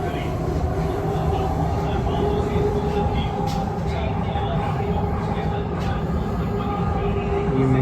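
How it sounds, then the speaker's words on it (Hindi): A Delhi Metro train rumbles steadily along with a constant low roar and humming tones, loud and continuous throughout, with some faint talk underneath. "ये मेट्रो जो है वो अंडरग्राउंड खत्म होके बाहर को आई है"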